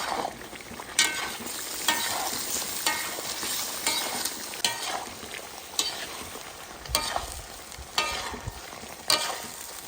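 Pork tails in sour cream sizzling steadily in a pan over low heat while a utensil scrapes and stirs through them in regular strokes, close up, with no talking.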